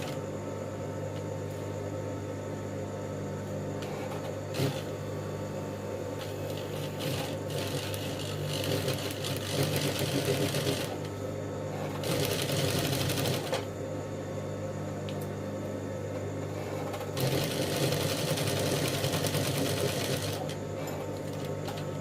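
A sewing machine stitches casual women's trousers, its motor whirring steadily and close with rhythmic needle clatter, swelling louder in several bursts of faster sewing.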